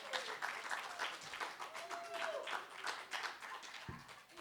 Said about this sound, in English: Clap like it worked.